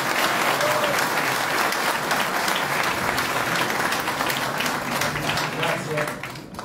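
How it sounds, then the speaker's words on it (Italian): A crowd at a civic ceremony in Postiglione applauds to welcome the mayor, a loud sustained burst of many hands clapping that holds steady, then begins to thin near the end. "a cui vi chiedo di fare un forte applauso, che è il sindaco Carmine Cenno"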